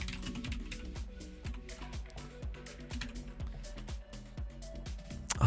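Rapid, uneven clatter of fingers typing on a computer keyboard, with steady music playing underneath throughout.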